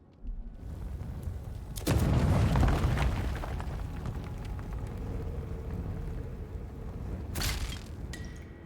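A grenade explodes in the Avowed video game with a deep, loud boom that rumbles on and fades slowly, followed by a second, shorter burst near the end, with no talking.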